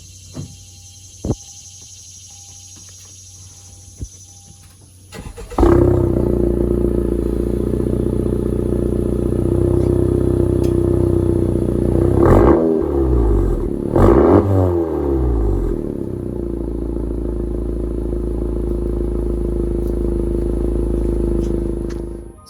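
Modded 2018 Honda Civic Sport hatchback with a turbocharged 4-cylinder and aftermarket exhaust: after a few quiet seconds the engine fires up close by, settles into a deep steady idle, and gives two short revs before idling on, with no talk.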